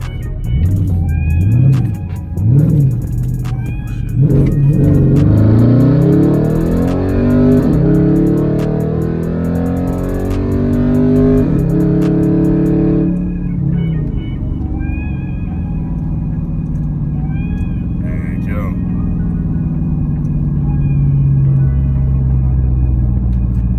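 A 2012 Dodge Charger SRT8 fitted with a Pedal Commander accelerates hard, its engine roar climbing through rising gears for several seconds, then easing back to a steadier rumble heard from inside the car.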